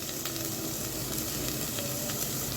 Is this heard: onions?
yes